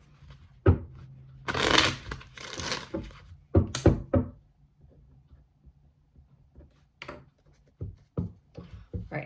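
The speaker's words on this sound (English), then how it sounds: "one more shuffle" Tarot cards shuffled by hand, a few quick riffling bursts and soft slaps of the deck separated by quiet pauses, close and fairly crisp, with no talking.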